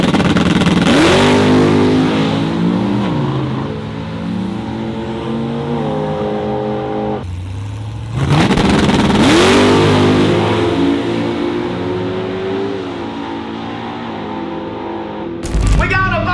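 A 2015 Chevrolet COPO Camaro drag car built for Radial Renegade 550 Index racing revs loudly in two long bursts, its pitch sweeping up and settling, with a brief cut between them and a short blip near the end.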